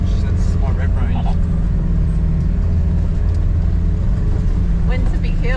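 A modified Toyota Landcruiser 200 series engine drones steadily in second gear low range on an overgrown track, a loud constant rumble under people talking.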